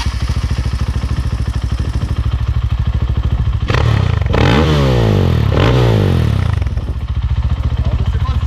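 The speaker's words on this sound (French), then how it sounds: "Maintenant, ce qui va nous intéresser, c'est le petit bruit de la moto" Husqvarna 450 SM FE supermoto motorcycle engine running close by, a steady single-cylinder throb that breaks into a few loud, sharp revs in the middle before settling back to idle.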